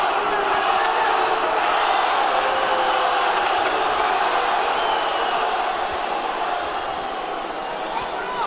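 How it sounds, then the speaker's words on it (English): A boxing arena crowd roars continuously while scattered voices try to start a chant that never quite comes together, a broad, loud wash of noise from start to end. "Crowd wants to chant Rocky, Rocky, Rocky, but they can't get it together"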